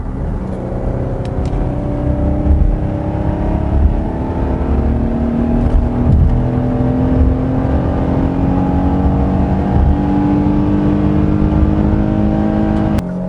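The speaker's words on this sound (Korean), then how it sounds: "3000rpm 이상에서 엔진이 힘을 쫙 분출하면서 RPM을 높일 때 그때 엔진 소음이 차 안으로" A Kia Carnival Hi-Limousine's V6 engine revs steadily upward under acceleration past 3000 rpm, a loud droning hum that climbs in pitch over several seconds, heard from inside the cabin.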